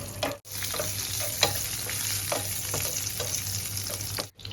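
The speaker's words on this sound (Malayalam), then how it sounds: "ഉണക്കമുന്തിരി ഫ്രൈ ചെയ്തെടുക്കുന്നുണ്ട്." Cashews and raisins frying in ghee in a pan, a steady close sizzle broken by periodic stirring scrapes and a few brief dropouts, with no speech.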